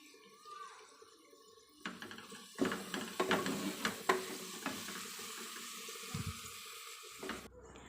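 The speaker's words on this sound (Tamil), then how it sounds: "இப்போ நம்ம எடுத்து வச்ச பச்சை மிளகாய், கொத்தமல்லி தழை, புதினா இது எல்லாத்தையும் போட்டு நல்லா வதக்கி விட்டுக்கலாம்." Green chillies, coriander leaves and mint are sautéed in a pan for a Kerala-style dish, a sudden burst of sizzling frying with scraping stirs that stays fairly loud before cutting off near the end.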